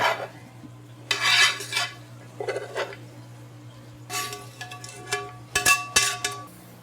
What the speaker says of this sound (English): So I'm gonna go and plate it.